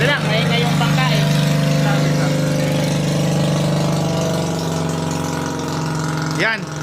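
A steady, droning boat engine runs loudly and continuously throughout, with voices talking briefly over it near the start.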